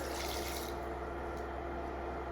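Water pours steadily into a pot for maple cranberry sauce, a soft continuous splashing rush, close and unbroken, with no talk.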